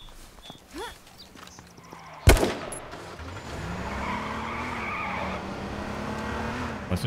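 A car skids and drives in the video game H1Z1; a sudden loud crash-like hit gives way to a steady engine drone with rising pitch sweeps, after quieter scattered game sounds.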